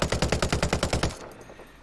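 Rapid automatic AK rifle fire from the Ghost Recon Breakpoint video game, a quick burst of about a dozen evenly spaced, loud shots that cuts off abruptly, leaving a short fading tail.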